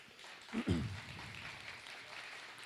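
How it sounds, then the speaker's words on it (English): An audience at a leadership speaking event applauds in honor of a military veteran, a soft, distant wash of clapping with a brief voice near the start. "Let's give him a round of applause for that."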